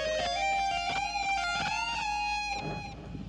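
Solo electric guitar playing a lead passage from a song in Kantara, with sustained bent notes, a full bend and release, and picked runs, loud and close, ending on a fading held note.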